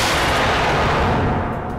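An explosion in a video game, a dense roaring blast that fills the whole moment with loud rumbling noise and slowly starts to fade near the end, with no talking.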